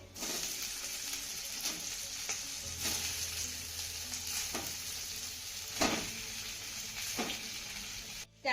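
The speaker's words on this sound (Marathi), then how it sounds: "त्यानंतर ह्या फोडणीमध्ये आपल्याला वडे घालायचे आहेत" Steamed drumstick vadas frying in a hot spice tempering of cumin, sesame, asafoetida and curry leaves, a steady close sizzle with occasional stirring scrapes and bursts of crackle.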